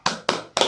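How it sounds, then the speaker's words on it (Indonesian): A group in an Indonesian community session claps a 'tepuk hebat' chant: three sharp, evenly spaced hand claps in quick rhythm, close and crisp. "kita tepuk hebat lagi ya"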